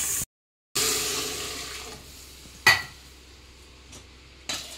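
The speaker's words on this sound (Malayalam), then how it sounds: "കുറച്ച് വെള്ളം ഒഴിക്കണം" Water poured into a cooking pan in a home kitchen, a short splashing hiss after a moment of silence, followed by a few faint clinks of metal utensils against the pan, close and with no voices.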